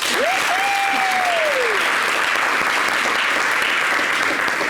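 Steady, even applause from a studio audience on a French television talk show runs throughout, a dense wash of clapping with a brief whistle-like tone rising and falling over it near the start.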